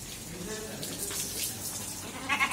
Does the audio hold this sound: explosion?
no